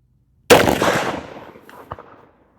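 A single loud CVA Crossfire muzzleloader shot loaded with 100-grain Federal Firesticks, a sharp close blast at an outdoor target range followed by a decaying rumble and a faint echo about a second and a half later.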